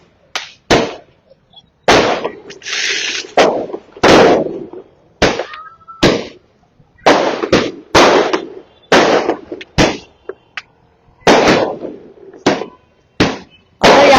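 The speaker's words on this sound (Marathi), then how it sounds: "राठोड हे नुकतेच बदलापूर शहरात आलेले आहेत आणि फटाक्यांच्या जल्लोषामध्ये, फटाक्यांच्या आतषबाजीमध्ये त्यांचं आगमन जे आहे ते या ठिकाणी होताना पाहायला मिळतंय।" Firecrackers burst at a welcoming celebration for an arriving guest, a long irregular series of sharp, loud cracks and bangs, some doubled in quick succession, with brief gaps between volleys and no talk.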